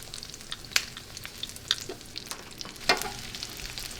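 Shrimp frying in olive oil with a piece of butter in a pan: a steady, soft sizzle broken by intermittent crackles and pops, close and fairly quiet, with no talking.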